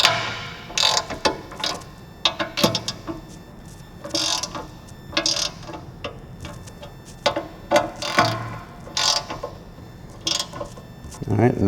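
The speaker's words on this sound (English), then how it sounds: "Set your torque wrench to 80 inch-pounds and then just tighten them in evenly." A torque wrench tightens oil pan bolts during an LS engine swap into an FRS. Its ratcheting clicks come in quick irregular bursts close by, mixed with metallic tool clatter and a voice talking intermittently.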